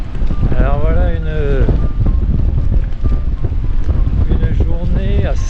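Strong gusty wind of 28 to 30 knots at Saint-Martin roars steadily and loudly across the microphone, with voices faintly audible under the constant buffeting.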